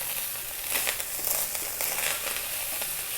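Cooked rice frying in a pan for egg fried rice gives a soft, steady sizzle with light crackles and stirring scrapes, fairly quiet and without talk.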